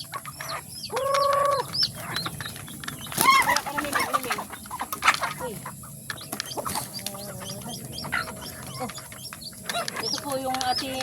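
A native chicken clucks and calls intermittently nearby in a rural yard, short clucks scattered beneath someone talking and other background noise.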